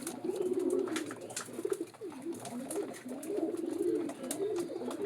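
Pigeons coo steadily and close by at a nest holding newly hatched chicks, a male among them, the soft rolling calls continuing almost without pause.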